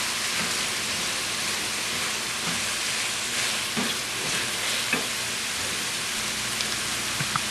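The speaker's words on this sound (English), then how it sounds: "we're going to add pepper and onion to some oil" Pepper and onion frying in oil in a pan, a steady dense crackling sizzle with occasional light pops and stirring, no talking.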